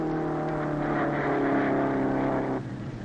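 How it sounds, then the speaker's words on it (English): Engine of a 1950s hot rod jalopy running at the roadside, a loud, steady throaty rumble with a slight rise in revs before easing off. "Here's Mel and the jalopy"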